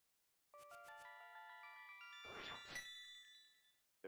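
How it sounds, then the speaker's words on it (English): Phone alarm ringing nearby, a bright melodic chime tune of repeated ringing tones playing clearly, briefly cut off and then restarting at the end. "There's my alarm to tell me that, hey, you're due on stream in 5 minutes. Thanks, phone."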